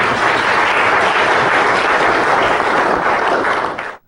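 A crowd at a Republican candidate's event breaks into loud, dense, sustained applause that fills the space, then cuts off abruptly at the end.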